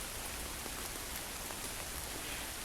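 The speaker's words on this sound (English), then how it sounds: "The hail has stopped and it is now just rain" Steady rain falls just after a hailstorm in a Kent woodland, a dense even hiss of drops on surfaces, constant and fairly close, with no voices.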